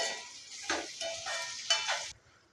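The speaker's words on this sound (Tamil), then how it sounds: "பெருங்காயத்தூள், மஞ்சள் தூள் சேர்த்துட்டு வதக்கி எடுத்துக்கலாம்" Green chillies with salt, asafoetida and turmeric sizzle in hot oil in a pan, a steady close frying hiss that swells in three bursts as the mixture is stirred, with no talk.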